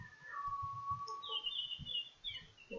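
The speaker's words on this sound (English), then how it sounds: "It's an unusual bird call" A chorus of birds with an unusual call, high chirps and whistled notes rising and falling over low, rumbling background noise, heard fairly faint and at a distance.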